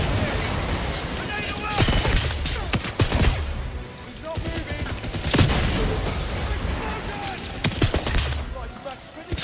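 Burst-fire gun in the video game 007 First Light: repeated rapid clusters of sharp gunshots with booms and mechanical clatter throughout, loud and busy, with a voice talking over parts of it.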